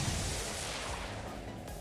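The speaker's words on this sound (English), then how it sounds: "So we're gonna rapid fire here." Rapid gunfire in XCOM 2 rattles out as a dense, continuous barrage of shots blurring into one loud roar for nearly two seconds.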